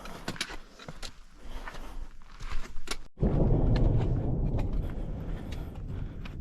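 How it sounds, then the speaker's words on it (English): Thunder in the Grand Canyon rolls in as a deep, sustained rumble that swells and lingers for several seconds over rustling outdoor background noise. "Got a little thunder,"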